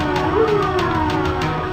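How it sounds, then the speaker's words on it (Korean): Police patrol car siren wailing on a road, a loud rising and falling electronic tone with a rhythmic pulsing pattern, close and clear without speech. "순찰차가 사이렌을 울리며 단속을 시작했는데"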